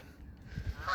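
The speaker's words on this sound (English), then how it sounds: "Canadian geese. A couple of grey legs over here somewhere." Canada geese honking outdoors in the countryside, a brief nasal honk rising near the end over low rumbling background noise, moderately close and with no talking.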